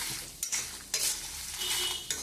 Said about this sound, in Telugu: చాలా సేపు వేయించాల్సిన అవసరం లేదు సిమ్లో బాగా దూరంగా వేయించుకోవాలి